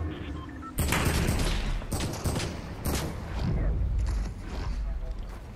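Video game gunfire sounds in loud, close bursts of rapid shots, with several heavy volleys separated by short gaps.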